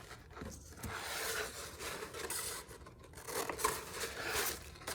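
Scissors cutting paper for a handmade junk journal notebook, close and fairly soft, with repeated snipping and scraping strokes running steadily through the clip without talk.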